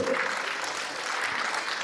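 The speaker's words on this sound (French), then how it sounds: "Applaudissements pour Artémon." An audience at an awards ceremony for solidarity initiatives gives a short burst of steady, full applause, many hands clapping together throughout the brief moment without voices on top.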